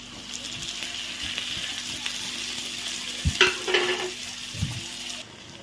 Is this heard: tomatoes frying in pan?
yes